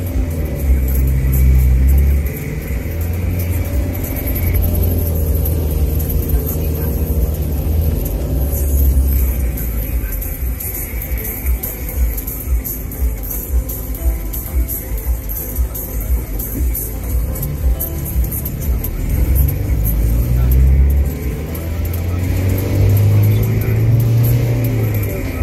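A bus pulls out of the station in St. George's, Grenada, its engine rumbling and revving steadily close by with road noise throughout, no talk heard.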